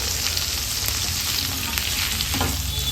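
Thick-cut onion and capsicum fry in oil for egg chilli, a dense, even sizzle filling the whole stretch with faint stirring scrapes and no voices.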